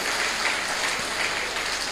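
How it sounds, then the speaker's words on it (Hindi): An audience at a comedy talk on in-laws claps steadily in a dense, continuous burst of applause that fills the room for the whole stretch. "हाँ ताली बजा लो, ताली बजा लो, क्या दिक्कत है?"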